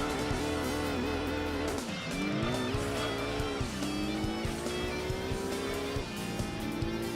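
Car tires squeal and skid under braking through a turn in the Gran Turismo 2 racing game, a sustained screech layered over a loud, steady engine drone that bends in pitch as the car slows and recovers.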